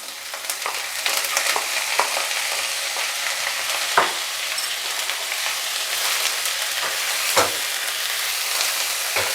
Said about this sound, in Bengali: এবার এর মধ্যেই আমি যে 1 বাটি সুইট কর্ন রেখেছি এটা এর মধ্যে দিয়ে দিলাম।